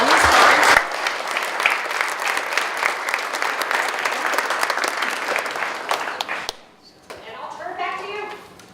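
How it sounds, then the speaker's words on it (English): A conference audience applauds a panel with loud, dense clapping that runs for several seconds and then fades, followed by someone speaking. "We're thankful you all just gave them a round of applause."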